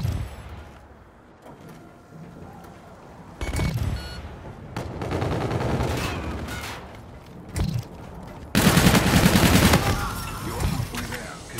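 Video game gunfire in a hardcore free-for-all match, with heavy bursts of rapid shots and blasts coming in loud clusters separated by quieter gaps.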